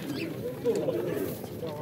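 Pigeons coo softly at a pigeon market, low throaty murmurs blending with a bustle of nearby voices and crowd noise.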